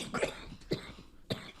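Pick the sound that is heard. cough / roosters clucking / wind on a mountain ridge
cough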